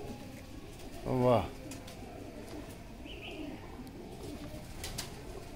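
Pigeons kept by a breeder give a short run of soft cooing near the start, while someone speaks an exclamation and faint background noise continues.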